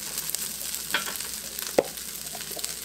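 Shrimp sizzle in a hot pan for fried rice, a steady close frying hiss with a couple of soft clinks from stirring.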